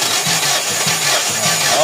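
A Mitsubishi Fuzion 4G64 engine that won't start is cranked during a compression test, giving a steady rhythmic chugging of evenly spaced pulses under a constant mechanical whir.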